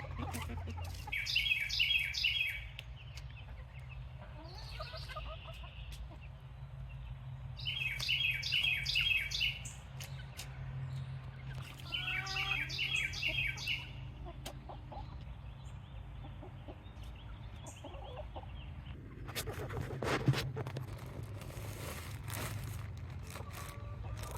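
Chickens in a muddy chicken run forage for earthworms, giving out repeated bursts of clucking and chirpy calls in clusters a few seconds apart over a steady low background hum, with a sharper knock near the end.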